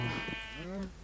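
Sheep bleating in the Minecraft video game, a wavering, loud bleat close up that fills most of the second, with no talk over it.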